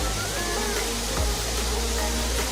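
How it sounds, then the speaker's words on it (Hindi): Steady broadband rush of a waterfall near Pelling village in Sikkim, a continuous even roar with no breaks and no voices. "सबसे पहले हम एक झरना देखने पहुंचे।"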